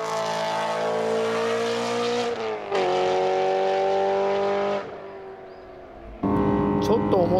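A 4-litre naturally aspirated V8 race car on a time-attack run at the SUGO circuit, its engine droning loud and steady, dipping and rising with gear changes, with a commentator's voice over the top.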